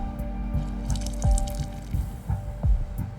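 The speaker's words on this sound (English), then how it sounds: "I'll go and add some water." Water being poured or added in a video game, heard as a handful of close, wet drips and small splashes falling in an uneven rhythm over a steady low background hum.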